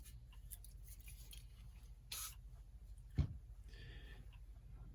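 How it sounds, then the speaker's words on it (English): A short hiss of WD-40 sprayed from a can into a small cap, followed by a faint sharp click and some light handling noise in a quiet room. "I apply a bit of WD-40 and just spray some into a little cap that I have here."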